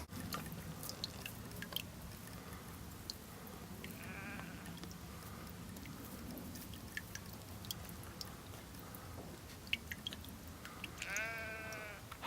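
Shorn ewes bleat faintly in the distance on the South Downs in summer. Two short calls rise over a steady outdoor hiss and rustle.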